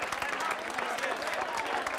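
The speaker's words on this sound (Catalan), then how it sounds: "És el president qui rep aquest aplaudiment unànime de la plaça de Sant" A crowd in Plaça de Sant Jaume applauds steadily and unanimously, dense clapping filling the open square from start to finish, with voices mixed faintly into the ovation.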